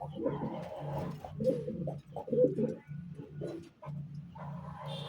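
Pigeons coo in low, throaty, repeated phrases, close by and fairly loud, continuing one after another with short pauses.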